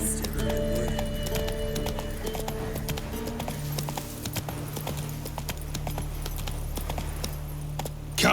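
Geralt's horse Roach in The Witcher 3 video game, with steady clip-clopping hooves and a whinny over a low rumble of game ambience, ending in a louder burst.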